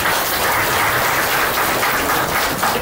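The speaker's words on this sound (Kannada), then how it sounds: "ಸೊ ಚಿತ್ರಸಂತೆ ಗಿರೀಶ್ ಅವ್ರಿಗೆ ಒಂದು ಜೋರು ಚಪ್ಪಾಳೆ ಮಾಡೋಣ." Audience applause for Chitrasante Girish at an International Women's Day event, a dense, steady wash of many hands clapping that fills the whole stretch at even loudness, with no voices over it.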